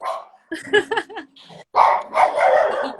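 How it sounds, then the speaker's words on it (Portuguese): Two young dogs in a home barking in a quick burst of sharp, close yips and barks, with a brief pause and then a louder run of barking. "Tem duas filhotas aqui latindo."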